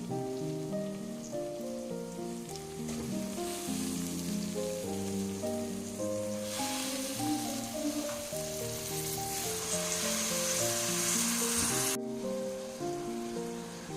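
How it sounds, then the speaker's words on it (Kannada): Soaked basmati rice for kushka rice goes into a hot pan, setting off a loud, continuous sizzle that holds steady and swells slightly over fourteen seconds, with music playing underneath. "ಬಾಸುಮತಿ ರೈಸ್ ಹಾಕ್ತಾ ಇದ್ದೀನಿ"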